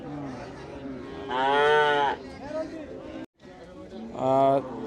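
A cow with her calf moos loudly twice, a long low call and then a second one, with people chattering nearby throughout at a cattle market in Rajshahi.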